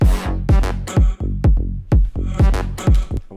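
Electronic kick drum and bassline with sidechain balance, punchy booming kicks on a steady beat with the bass ducking and swelling between each hit, loud and alone with no voices.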